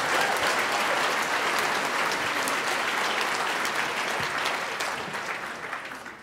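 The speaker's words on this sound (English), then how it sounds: "Please give a big round of applause for our 8th graders," An audience at a school scholarship benefit applauds 8th graders with a loud, dense burst of clapping that stays full for several seconds, then gradually thins and fades.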